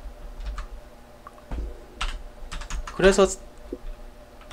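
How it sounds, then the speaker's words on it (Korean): Typing on a computer keyboard bought about a month ago, with scattered key clicks building into a quick burst of keystrokes under a few spoken words. "저는 키보드 산지가 이제 한 달 가까이 되는데 아직도 익숙해지지가 않아요."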